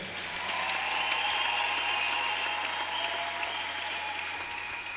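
A church congregation claps steadily, a dense and even wash of applause that holds at a constant level for several seconds.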